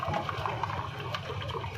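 Water pours and trickles steadily into a thick batter, a soft continuous splashing close by with no talking.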